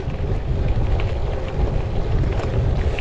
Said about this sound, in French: Un petit peu de plaine avec le vent dans la tronche